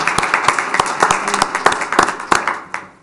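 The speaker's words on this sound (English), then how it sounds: "let's give them one more big round of applause and say thank you" A town council meeting audience gives a round of applause, a few seconds of fairly close, irregular clapping from a modest crowd that thins out and fades at the end.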